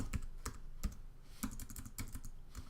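Keys clatter on a computer keyboard in quick, uneven taps, faint and nearby, with no voices present.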